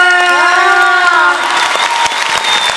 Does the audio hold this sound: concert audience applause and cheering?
yes